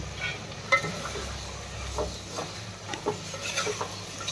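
Vegetables for Gujarati winter undhiyu being stirred in a pot at home, giving soft scraping and shuffling strokes with a light sizzle underneath, moderately close and fairly quiet, with no talking.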